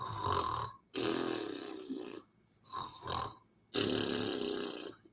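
A voice imitates loud snoring in a children's book reading: three long, rough, snorting breaths with short pauses between them, up close and alone.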